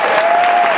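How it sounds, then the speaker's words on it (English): An audience claps after a play, a brief, loud, dense burst of steady applause with no pause. "let's hear a round of applause."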